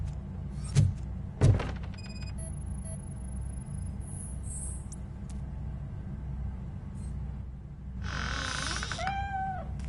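A cat in the Robocop Rogue City video game gives two short meows near the start, then a longer rising meow near the end, over a low ambient game hum.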